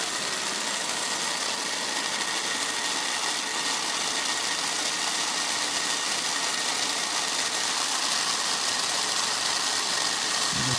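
Marx model train engines run on a track, pulling postwar Lionel cars around a layout mountain, a continuous even rumbling whir with light clatter from wheels and motors, steady throughout with no talking.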